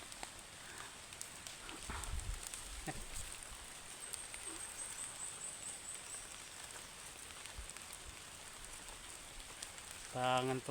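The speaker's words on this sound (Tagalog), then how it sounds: "Dito lalakas yung ulan." Rain falls steadily outdoors as a soft, continuous hiss that stays faint and even throughout, with a brief louder knock just before the end.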